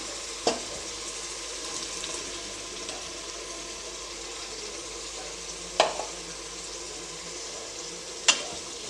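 Ground green masala paste frying in oil in a pan for green pulao, a steady soft sizzle with a few sharp clinks of a spoon against the vessel, no talking.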